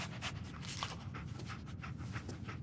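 Dogmeat, the dog companion in Fallout 4, sniffing and panting close by in quick, rhythmic breathy puffs that continue steadily throughout, with no talk.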